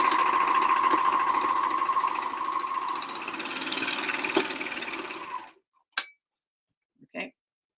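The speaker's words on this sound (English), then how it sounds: "I'm just going to sew up my side seam." A sewing machine runs a continuous stitching drone while sewing the side seam of a small t-shirt, close and fairly loud, then stops abruptly, followed by a couple of brief clicks and handling sounds.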